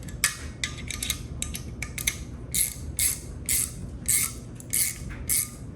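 A garage door torsion spring being cranked down with a winding tool, giving a series of rapid metallic clicks and ratcheting bursts, close and repeating in uneven rhythm with no voices.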